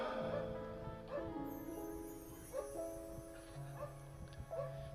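A dog whimpers and yips during a Hindu religious discourse, thin, whiny cries repeating over a low hum of the gathering, fairly distant and faint.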